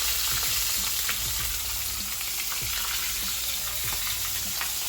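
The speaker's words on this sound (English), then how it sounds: "Let him fry in there, you know. That's it right there. That's the first one in the oil." Fish fries in hot oil on a stove. A loud, continuous sizzle carries scattered small pops and crackles throughout, with no talking.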